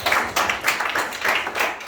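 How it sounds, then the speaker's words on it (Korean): Brief burst of classroom applause, a group of students clapping in quick, dense rhythm for nearly two seconds at moderate, close loudness, with no voices over it. "박수."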